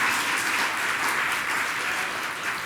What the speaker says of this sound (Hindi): दो एक बार ताली और